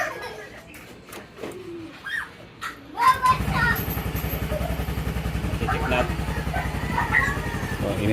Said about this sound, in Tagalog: I start natin yung motor guys